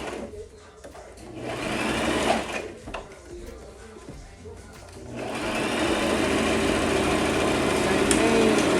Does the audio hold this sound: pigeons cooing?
no